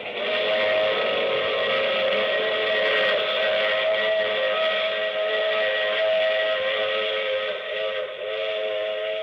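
A long, loud steam train whistle blares steadily for several seconds, a sustained multi-tone wail over a low rolling rumble.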